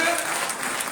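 Congregation clapping at a Sunday church meeting, a brief dense burst of many hands, moderately loud and close, overlapping a voice.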